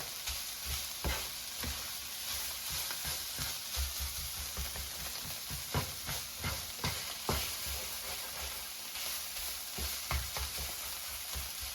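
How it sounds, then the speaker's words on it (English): Ground turkey and garlic sizzle steadily in a hot pan while being stirred, with scraping clicks and bumps from the mixing spoon breaking through the continuous frying hiss; no voices. "So I'm just going to mix this so it's all evenly distributed, and garlic starts to cook as well as I'm mixing."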